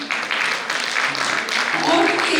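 An audience at a Hindi Diwas celebration breaks into hearty applause, clapping building in dense bursts and growing louder toward the end, with some voices mixed in.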